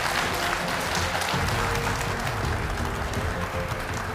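A theatre audience at a live duet comedy show applauds steadily, dense, sustained clapping filling the room at an even, loud level throughout.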